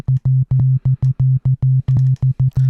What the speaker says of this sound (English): So we're playing this sine wave here,